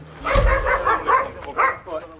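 Several dogs bark and yip in quick overlapping bursts at a roadside checkpoint in Egypt, fairly close and loud, with people talking among them.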